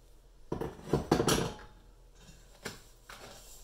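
Vegan peanut butter cookie dough being mixed in a bowl, a few clinking, scraping utensil knocks against the dish in short bursts, close and fairly quiet with no talking.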